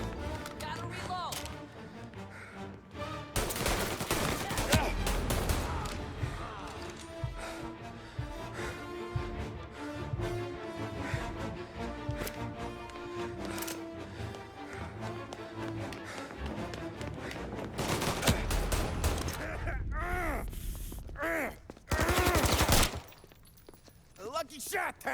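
Gunfire in the Mafia Definitive Edition video game, sharp shots and impacts scattered through a dense, loud battle mix with shouting voices and music, ending in a few isolated bangs.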